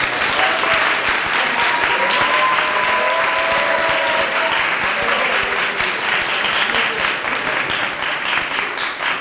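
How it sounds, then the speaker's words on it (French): Sustained audience applause at a live comedy-style event, steady dense clapping throughout at a loud level, easing off slightly toward the end, with no voices over it. "On peut l'applaudir quand même."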